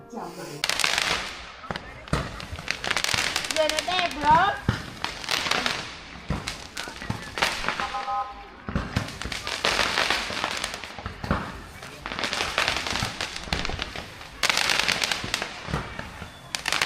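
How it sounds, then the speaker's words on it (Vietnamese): Firecrackers and fireworks burst at a New Year celebration in Vietnam, with sharp cracks and pops repeating throughout, some in dense crackling clusters, loud and close, while people talk in the background. "फटाके फोडला लागेल आता इथे."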